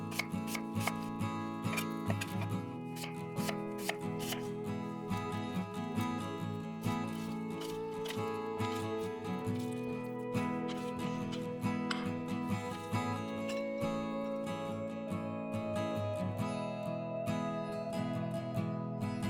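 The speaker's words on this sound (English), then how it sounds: "First, we'll slice it in half, remove the ends, then stand it up and slice from pole to pole." A knife slicing an onion on a cutting board, with rapid, steady, crisp cuts going on throughout, close and clear and heard alone with no talking.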